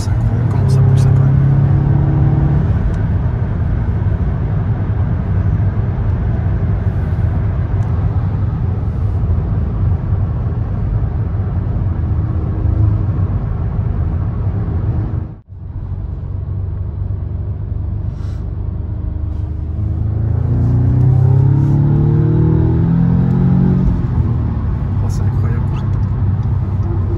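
An Audi S3 8V quattro engine of about 300 horsepower roars and pulls hard under acceleration, a loud steady interior rumble that dips briefly mid-way before building again as the revs climb.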